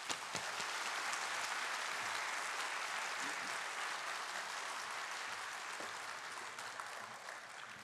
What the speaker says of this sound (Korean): 여러분 환영과 감사의 박수 보냅니다